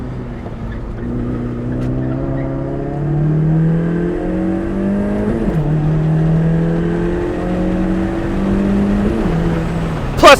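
A modified Honda CR-Z running 9 psi of boost revs hard through the gears. Its engine note climbs, drops sharply at one shift and climbs again at another, loud and close from inside the cabin.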